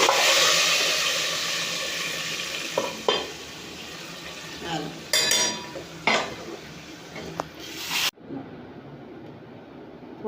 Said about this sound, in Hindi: दाल में तड़का डाल